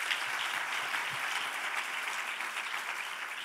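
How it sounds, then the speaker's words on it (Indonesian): Applause from a church congregation during a worship service, a steady dense wash of many hands clapping at moderate level throughout with no talking. "Berikan tepuk tangan bagi Tuhan."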